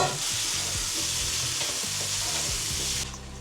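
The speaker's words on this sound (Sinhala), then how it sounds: "දැන් මම pan එකේ roast කරගත්ත potato ටිකත් මේකටම දාගන්නවා" Pan-roasted potatoes tipped into a frying pan and stirred, a loud, continuous sizzle close by with knocking, scraping stirs of a spatula throughout, easing off slightly at the end.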